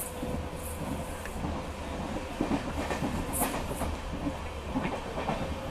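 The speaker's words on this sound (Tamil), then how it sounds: "நம்ம ட்ரெயின் வந்து பார்த்தீங்கன்னா திருத்தங்கல் ஸ்டேஷன் அரைவல் ஆகுது" Rolling wheels and a steady clickety-clack from a Madurai–Guruvayur LHB passenger train moving along the rails, with a continuous low rumble and scattered rattles running unbroken throughout.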